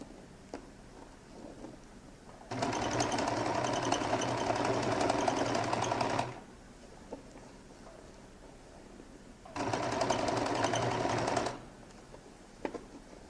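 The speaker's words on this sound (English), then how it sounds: "And now begin to stitch till I get to the end, or at least as close as possible to the end." A sewing machine stitches a jacket lining in two long steady runs, about four and two seconds long, with quiet pauses between them. The whirring is close and even, with no voices.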